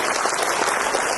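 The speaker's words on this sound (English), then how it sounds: "Please give him a round of applause" Audience applause at a public address or political gathering, a dense steady patter of many clapping hands, loud and continuous throughout without breaks.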